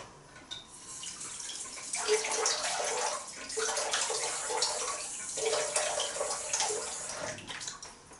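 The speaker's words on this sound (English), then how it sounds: "A bit of a cold rinse." Cold water running from a tap to rinse a freshly shaved face, a moderate splashing flow with surges and softer patches as hands move through the stream.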